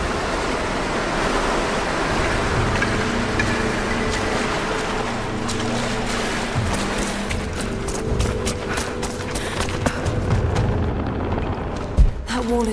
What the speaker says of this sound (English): Got to raise the water.